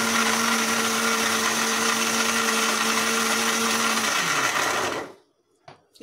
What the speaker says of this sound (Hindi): अब इनको हम मिक्सी में पीस लेंगे।